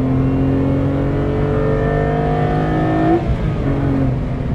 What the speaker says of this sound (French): Le 6 cylindres, tu l'entends gueuler quand même un peu